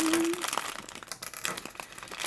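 Plastic packaging from a Re-Ment Pokémon Aqua Bottle figure set crinkles and rustles close up in irregular, crackly handfuls over a couple of seconds, with no speech during it.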